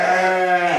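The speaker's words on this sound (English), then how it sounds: "the sheep must know my voice and get excited because they'll start shouting" A single sheep gives one sustained, loud, wavering bleat close by inside a lambing shed, with no talk over it.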